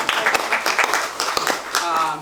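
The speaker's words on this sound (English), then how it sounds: "Please give him a round of applause." A crowd at a Santa Barbara Botanical Garden gathering applauds Mr. Sherman, a steady patter of moderate clapping running beneath a talking voice.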